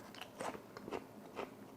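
Someone bites and chews crunchy preserved peach slices, quiet close-up crunches in three or four short bursts with soft pauses between, no talking.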